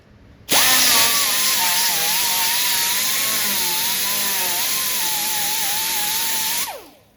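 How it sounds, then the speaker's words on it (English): Power tool fitted with a coarse 36 grit disc grinding down wood during an arcade cabinet restoration: a loud, sustained high whine with a wavering pitch that starts abruptly and spins down at the end, heard alone. "this is a 36 grit disc, which is really roughing up the wood"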